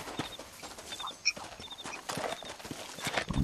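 Horse hooves in Red Dead Redemption, quick rhythmic clip-clop of a galloping horse, moderately near, with scattered bird chirps and a brief clink in the game environment.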